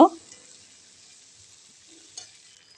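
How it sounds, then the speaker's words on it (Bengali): Potato pieces frying in oil with spices for a spinach dish: a quick stirring clatter at the start, then a faint, steady sizzle hissing on, with a small stir near the end. "এবার আলু দিয়ে দেব আলুটা দিয়ে এর সাথে সুন্দর করে আমরা ভেজে নেব"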